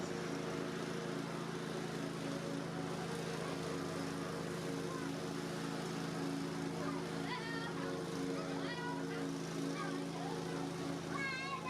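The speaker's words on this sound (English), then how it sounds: "After mowing a good portion of the yard" A Cub Cadet XT1 Enduro LT 46 riding lawn mower, 2025 version, drones steadily as it mows a yard, its engine hum constant and fairly distant, with a few faint chirps above it.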